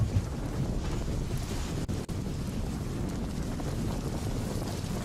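Steady, heavy wind roar buffets the microphone with a dense wash of noise, a storm with downpour in Nadiad, Gujarat, continuing throughout without pause.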